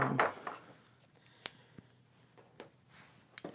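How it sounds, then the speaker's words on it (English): Scissors cut a slit through layered fabric and duct tape on a harvest bag, making a few short, sharp snips with quiet pauses between them. "Then we're going to make a slit going through all layers of the fabric and the duct tape."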